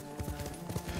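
Horse hooves clop in a quick, regular galloping rhythm during riding in the video game Ghost of Tsushima, close and distinct over a faint musical background.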